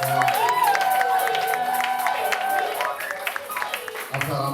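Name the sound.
congregation applauding and cheering for the Lord in church service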